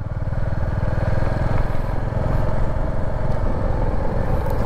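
A motorcycle engine drones steadily at close range while riding along a road, a continuous throbbing hum with wind noise and no breaks.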